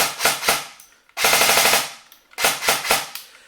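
CYMA CM.515 budget AR/M4 airsoft rifle running on an 8.4 volt NiMH battery, firing sharp mechanical shots in quick bursts and short strings, loud and close, separated by brief pauses.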